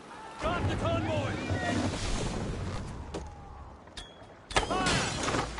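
Sailing ship moving over open-sea waves in Assassin's Creed Valhalla, with a steady broadband wash of water and wind, game music and shouted crew voices on top, and a sharper splash or burst near the end.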